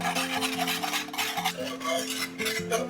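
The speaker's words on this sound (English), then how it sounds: "we're just going to keep whisking to prevent any clumps from forming on the bottom" A whisk scrapes and stirs through a creamy sauce in a pot for green bean casserole, a continuous close rubbing swish with a faint metallic scrape and no talking.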